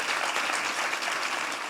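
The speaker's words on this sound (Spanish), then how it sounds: "Un aplauso" Audience applause, a dense steady burst of many hands clapping together, loud and close, with no talking over it.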